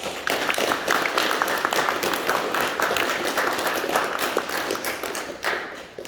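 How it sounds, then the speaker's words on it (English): A school prizegiving audience applauds the college staff, a dense, steady wash of clapping from a large crowd that holds for several seconds before easing off. "give them a round of applause, please"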